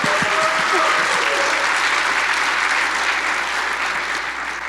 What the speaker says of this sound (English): So can we get a big round of applause for Joe, Mofei, and of course